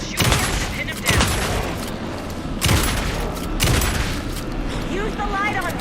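Gunfire from the video game Alan Wake 2 erupts in several loud, booming bursts, with heavy shots landing around the one-second and near-three-second marks amid a dense, continuous rumble of combat noise.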